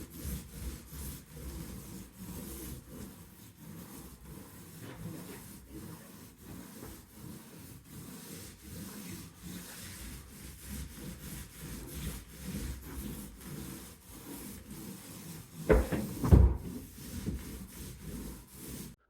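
Drywall joint compound on a wall is sanded by hand, giving continuous close rasping strokes in a steady back-and-forth rhythm, with a sharper knock or bump near the end and no talking.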